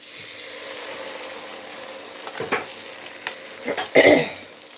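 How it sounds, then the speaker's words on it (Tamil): Ground masala sizzling steadily in oil in a pan while a spoon stirs and scrapes, with a few sharp clinks of cookware near the end. "இப்போ நம்ம வந்து அரைச்ச மசாலாவை இதில் ஊற்றிடலாம்"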